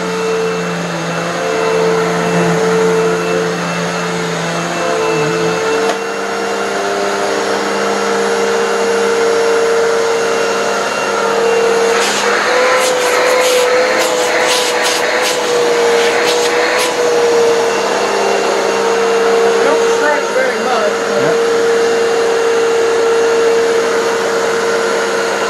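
An old Dirt Devil vacuum cleaner's motor runs steadily and loud throughout, holding a constant whine with some shifting airflow hiss and brief rattling bursts partway through.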